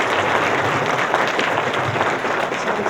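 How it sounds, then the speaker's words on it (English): An audience applauding at a therapists' Q&A event, a dense continuous roar of clapping, loud and even from start to finish. "let's just give Geoff Steurer a round of applause"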